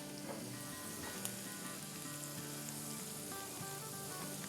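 Crushed garlic sizzling in hot oil on a tawa for pulao, a steady crackling hiss with faint clinks from stirring; continuous and fairly quiet, without talk.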